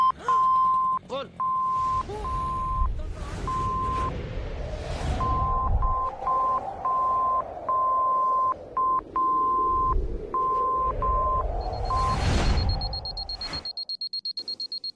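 Telephone keypad dialing tones in a Telugu film scene: a quick series of short, evenly pitched beeps with small gaps between them, heard over a low rumbling background.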